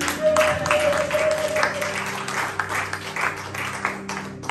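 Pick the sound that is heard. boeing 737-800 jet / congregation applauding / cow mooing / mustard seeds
congregation applauding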